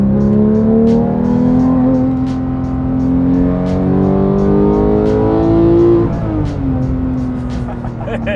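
Porsche 911 GT3 with a six-speed manual gearbox, its engine revving hard from inside the car: a loud, rising howl that climbs through the revs, briefly dips during a gear change, then pulls again, with faint clicks over it.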